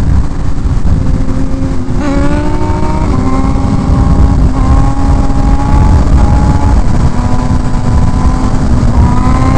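A motorcycle engine revs up hard and holds a high pitch as the rider pulls a wheelie, loud and continuous, with the whine climbing in steps through the gears under steady engine roar.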